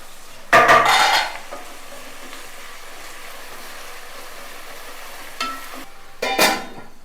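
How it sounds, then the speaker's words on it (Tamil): Onions frying in a pot for a smoky chicken tikka biryani, stirred with a utensil in two or three short scraping, clattering bursts over a soft steady sizzle, with no voices. "ஆனியன் நல்லா ஃப்ரை ஆகட்டும்."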